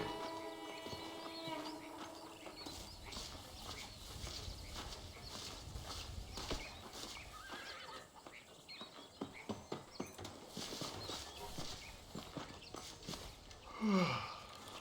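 Horse hooves clip-clopping in the Red Dead Redemption video game, a quiet, steady run of hoof beats across dirt with a faint ambient background and a brief higher squeak near the end.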